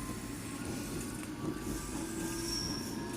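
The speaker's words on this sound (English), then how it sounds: "a District Line train to Ealing Broadway arrives" London Underground District line train pulling into a station, a steady low rumble with faint high metallic wheel squeals and whines, moderately loud and continuous with no voices.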